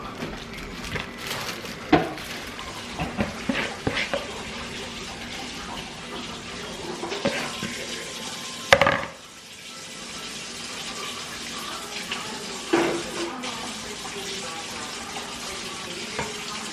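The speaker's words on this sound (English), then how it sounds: "Let me wash my hand." Kitchen tap water runs steadily for hand washing, with a continuous hiss of flow, several sharp clatters and splashes along the way, and a brief pause in the middle.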